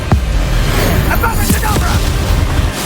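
A Confringo spell explosion in the video game Hogwarts Legacy, loud booming bursts and crackling impacts with a voice shouting over them.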